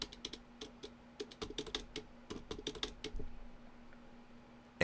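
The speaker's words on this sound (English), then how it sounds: "So let's type the name of a company." Quick, light keystrokes clatter on a computer keyboard as a company name is typed, coming in uneven clusters of clicks that are close and fairly quiet, with no voice.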